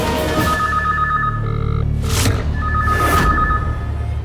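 A telephone rings loudly in bursts of electronic trilling, two clear rings separated by short pauses, with no talking over it.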